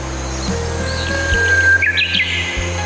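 A small bird gives a few quick high chirps over a steady low hum and a faint whistling tone.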